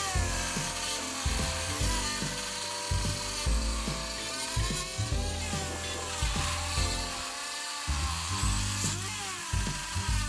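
Power tool cutting wood strips to size for a small furniture makeover, a steady workshop whine with repeated rhythmic cutting bursts throughout, fairly loud and close, no talking.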